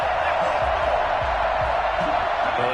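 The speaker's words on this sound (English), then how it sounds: "Well, the crowd doesn't like that." Football crowd in the stands reacting to a penalty flag with a loud, continuous roar of booing and shouting, sustained throughout with scattered whoops and thumps.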